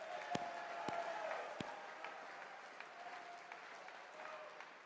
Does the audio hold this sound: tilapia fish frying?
no